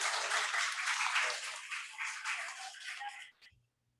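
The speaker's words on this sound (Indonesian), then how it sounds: "Tepuk tangan Bu anak-anak sekalian." Children applaud in a classroom with a burst of dense clapping that gradually thins out and stops abruptly after about three seconds.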